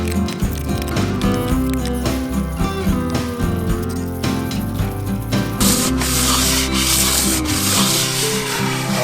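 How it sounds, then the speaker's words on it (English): A motorcycle engine head from a Suzuki GS850 is hand-sanded with 500 grit sandpaper, a loud, close, continuous rubbing scrape in quick back-and-forth strokes. "Now I'm just gonna finish it off with some 500 grit."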